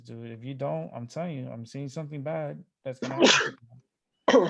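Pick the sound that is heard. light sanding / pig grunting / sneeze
sneeze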